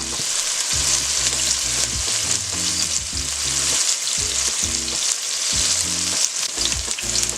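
Red peppers, onion and scallions fry in a pan for a chicken stew, a steady loud sizzle running throughout, with no talking.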